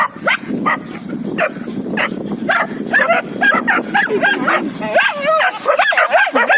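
A dog barking, yipping and whimpering close by in a rapid string of excited, high-pitched calls, with a person's voice talking among them.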